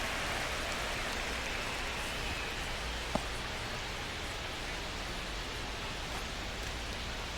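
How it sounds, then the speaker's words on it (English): Steady rain pours over a baseball game between the Chicago Cubs and Atlanta Braves in MLB The Show 25, a continuous dense hiss filling the whole stretch with one brief sharp tick partway through and no voices. "This rain is not letting up."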